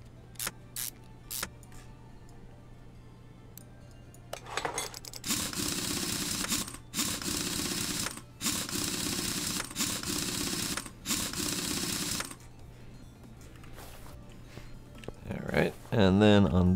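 A brake caliper is refitted in Car Mechanic Simulator 2021, heard as a few sharp mechanical clicks followed by long, loud bursts of power-tool whirring with short gaps between them, ending in a clatter.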